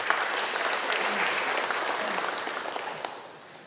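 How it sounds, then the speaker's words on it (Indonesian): Audience applause at a 2017 Jakarta (DKI) government anti-corruption program event, a dense, steady clapping from a large room crowd that holds for several seconds and slowly fades toward the end. "Ini tepuk tangan dulu untuk DKI."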